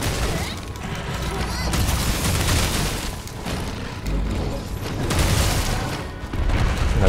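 Explosions and heavy impacts from the video game Monster Hunter World: Iceborne during a fight against Uragaan, with repeated booming blasts and crackling bursts layered densely over in-game noise, loud and continuous, while a player talks intermittently.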